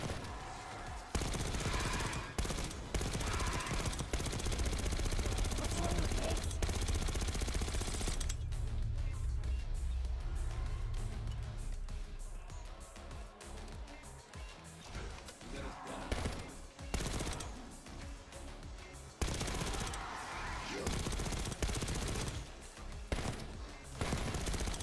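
Sustained automatic gunfire in Call of Duty Black Ops 6, loud dense bursts that break off into pauses and resume, with faint talk in places.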